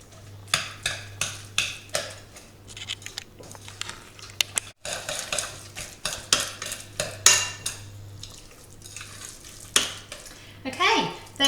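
A spoon stirs and scrapes through a bowl of warm spinach, ricotta, cheese and egg filling, giving repeated wet squelching strokes and clinks against the bowl, with a short pause midway and a voice talking quietly in places.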